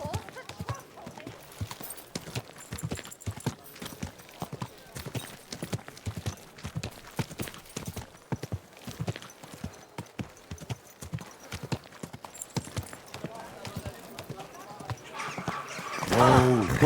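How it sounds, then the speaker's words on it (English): Horse hooves clip-clop continuously in Kingdom Come Deliverance 2, a quick, even rhythm of close steps in a medieval town, with voices talking over it and a louder burst at the end. "Do you want that horse to trample me?"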